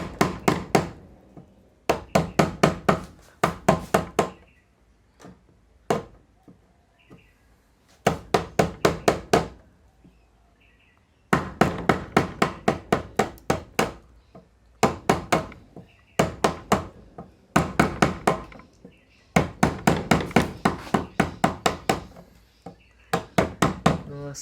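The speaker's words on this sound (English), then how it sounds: "So I'll look at using the hammer for this section here" A hammer drives a chisel into pine wood while a joint is cut, giving sharp knocks in fast bursts of four to eight strikes separated by short pauses, loud and close, with no talk between bursts.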